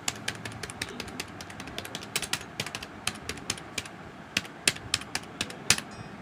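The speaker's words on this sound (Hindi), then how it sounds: "सात सेकंड में ए टू जेड टाइपिंग करके दिखा, एक हाथ से," Rapid one-handed typing of the alphabet on a computer keyboard, a quick run of crisp, closely spaced key clicks with a few louder strikes toward the end, close and alone.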